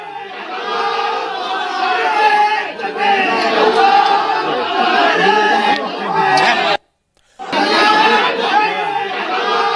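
Crowd of more than 200 people forcing their way into a temple, a dense roar of overlapping shouting voices held at a steady loud level, broken by one brief silent gap near the end.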